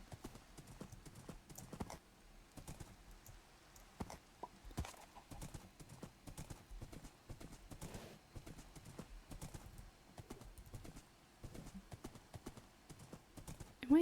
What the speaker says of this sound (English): haven't you been able to sprint with horses before? Like, I mean, this one's definitely fast